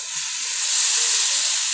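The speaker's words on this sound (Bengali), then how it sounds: "অল্প পরিমাণে জল চলে যাচ্ছে রান্নার মধ্যে।" Water poured into a hot cooking pan of curry with potatoes sets off a steady, loud hiss and sizzle that holds evenly for under two seconds, with no voices.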